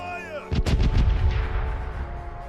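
A heavy boom bursts out suddenly and rolls into a long rumbling echo: a ship's cannon volley at sea in the pirate game Corsairs Legacy, loud and close over a faint background drone.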